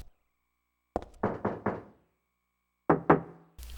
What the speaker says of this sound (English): Just knocking on the closed stall